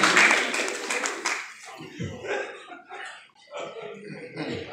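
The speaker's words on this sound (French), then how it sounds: "Est-ce qu'on peut applaudir bien fort pour Naomi qui n'a pas pu faire le déplacement?" Audience applause at an awards ceremony: a brief burst of clapping opens, then quickly thins and gives way to people talking and murmuring nearby.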